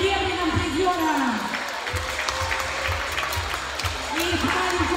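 Applause for silver medalists at a youth mini-basketball tournament award ceremony in a gym, steady crowd clapping with a voice talking over it and booming hall echo underneath.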